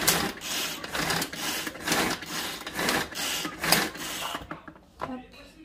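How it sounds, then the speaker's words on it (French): Pitted black olives being chopped in an electric mixer into small pieces, a loud buzzing whir in repeated short pulses that stops near the end. "Alors faut les mixer, mais il faut pas non plus que ce soit de la tapenade, il faut que ça reste en petits morceaux."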